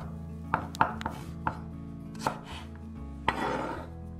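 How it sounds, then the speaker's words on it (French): Knife slicing a carrot into thin strips on a board, giving a handful of sharp, separate chops at an uneven pace, close and fairly quiet over a low background hum. "on rajoutera une carotte qu'on coupera en petites lamelles"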